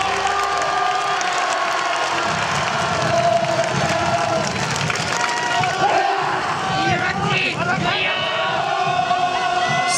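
Crowd applause and cheering at the Nagasaki Kunchi festival, performed by Ginya-machi's Shachi Daiko at Suwa Shrine, a sustained roar of clapping and shouted calls with voices throughout.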